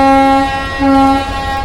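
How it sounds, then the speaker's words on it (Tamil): Two long, loud horn blasts from an express train departing toward Rameswaram sound one after the other, the second slightly longer, with no talking. "இப்பதான் ஒரு லாங் ஹார்ன் கொடுத்தாங்க"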